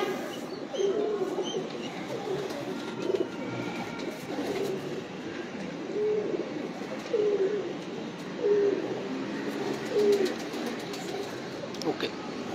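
Pigeons in a fancier's flock coo repeatedly in soft, regularly spaced calls, close by, over a murmur of background voices and ambient noise.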